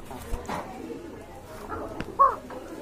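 Pigeon for sale cooing in a Bangladeshi bird market setting: a couple of soft low coos, the clearest near the end, over faint background noise and distant activity.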